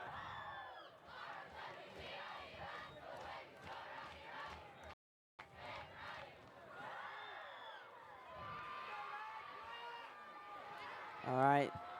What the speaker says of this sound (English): You can hear the rowdy crowd is here tonight, and it's fairly large.